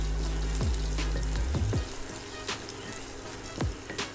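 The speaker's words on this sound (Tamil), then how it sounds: "வெங்காயம் சேர்த்து நல்லா மிக்ஸ் பண்ணி விடலாங்க" Mustard seeds and onions fry in oil in a pan, a continuous close sizzle with occasional sharp popping crackles and stirring noise, no voices over it.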